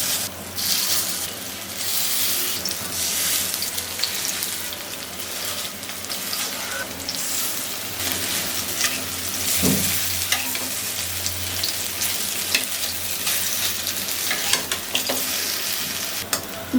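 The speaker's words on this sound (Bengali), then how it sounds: "চলুন ভেজে নেব। দিয়ে দেবো সরিষার তেল" Bora fritters made from a batter bound with atta sizzle and crackle in hot mustard oil, a loud, continuous frying hiss with occasional stirring and popping close by.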